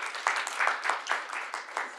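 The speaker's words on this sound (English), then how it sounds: "Thank you so much. Round of applause," Applause from a workplace audience, a short burst of clapping with soft rhythmic swells, moderately close and steady for about two seconds with no voices over it.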